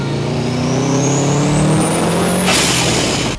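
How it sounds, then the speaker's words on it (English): A modified Subaru's engine revs up with a rising pitch, then a sharp, loud hiss of dump valve air bursts out as it shifts gear, close by. "make it sound like the car's sneezing every time you shift gear"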